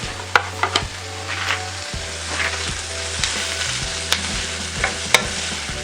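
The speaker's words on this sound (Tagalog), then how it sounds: "I-add na rin po natin itong ating bituka ng baka" Beef intestines and tripe sizzle loudly in a pan for papaitan, a steady frying hiss broken by a few sharp clacks of stirring.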